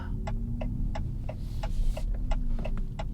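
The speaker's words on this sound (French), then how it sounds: "Et là, j'ai un bruit, il me semble bien. Oh, il y a un ronron là. Il y a un sifflement." Inside a fully electric Maserati Grecale, the motor gives a steady low hum and a faint whistle, with evenly spaced ticking clicks repeating throughout.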